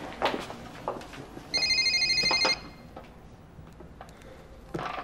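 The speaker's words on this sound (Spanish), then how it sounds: "Espera que atiendo el teléfono." A telephone bell rings in one rapid trilling burst of about a second, loud and close in a quiet indoor room, with light movement and a brief voice around it.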